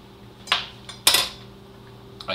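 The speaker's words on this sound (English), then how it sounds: "so I'm now gonna open the pot" A lid lifted off a cooking pot of cooked beans in a kitchen, two or three sharp metallic clanks and scrapes, close and clear against a quiet background hum.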